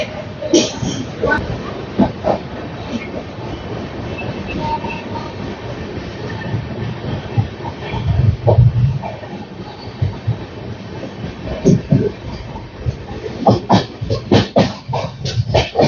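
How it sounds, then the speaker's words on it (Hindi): Jnaneswari Express train rolling slowly through Dongargarh railway station, with rhythmic clattering wheels and rail clicks, occasional squeals and clanks, heard up close from on board over steady rumble. "यहाँ पर 2 बजे हमारी ट्रेन डोगरगढ़ रेलवे स्टेशन को स्किप कर रही है स्लोली स्लोली"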